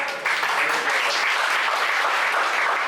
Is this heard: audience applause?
yes